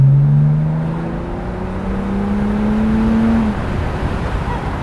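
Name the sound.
remapped BMW N57 330d big turbo car accelerating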